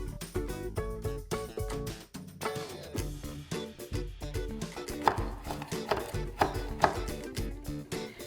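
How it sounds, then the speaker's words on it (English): A knife chops fresh rosemary leaves on a cutting board in quick, steady rhythmic strokes, close and crisp, with no talking. "You're gonna remove the leaves, but then we're gonna chop them up so that they're a little finer"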